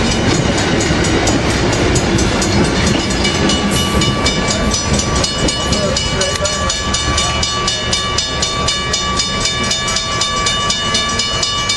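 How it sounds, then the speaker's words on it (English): An Amtrak passenger train with Amfleet I cars rumbles past at close range in Southern California, a loud continuous roar with rhythmic clattering of wheels over the rails throughout. "That's our train."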